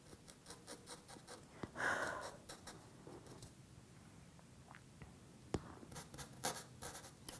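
Pencil shading on paper in a drawing session, repeated soft scratchy strokes in quick rhythmic bursts, close and quiet, with light breathing between them.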